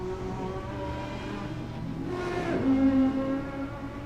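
Touring race cars, including a 1995 Honda Accord touring car, run on track during pre-season testing, a steady engine drone with a rising pitch sweep around the middle as a car passes, moderately loud throughout.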